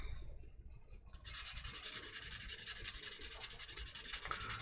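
Hand sanding with 800 grit sandpaper, quiet at first, then a steady back-and-forth rubbing in an even rhythm of short strokes, close and alone with no talk.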